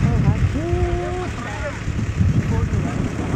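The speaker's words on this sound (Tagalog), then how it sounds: "Ang lakas ng hangin." Strong wind on Mt. Pinatubo buffets the microphone with a steady rushing roar, while a voice speaks briefly over the gusts.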